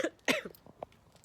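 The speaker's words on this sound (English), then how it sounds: "Sorry, I've still got a cough." A couple of quiet coughs and a throat-clearing rasp from a person sitting in a car, short and close with near silence between them.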